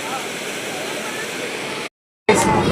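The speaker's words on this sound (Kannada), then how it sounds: "ಇಲ್ಲಿ ನೋಡ್ರಿ ನೀರು ಹೆಂಗೆ ಬೀಳಂತ" Water falling at the KRS dam water show, a continuous loud rushing roar that cuts out abruptly, then returns briefly at the end.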